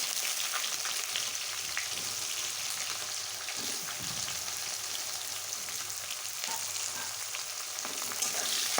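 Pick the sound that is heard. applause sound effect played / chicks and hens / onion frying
onion frying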